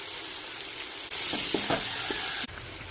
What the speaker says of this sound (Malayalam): നമ്മൾ ചോപ്പ് ചെയ്ത ഉള്ളി ഇട്ട് കൊടുക്കാം